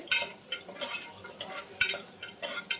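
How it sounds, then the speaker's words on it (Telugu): Jackfruit seeds fry in a pan while a spoon stirs them, giving repeated scraping strokes and light clinks in an uneven rhythm over a soft background sizzle, all close up with no talk. "ఇలా ఫ్రై చేసుకోవాలి."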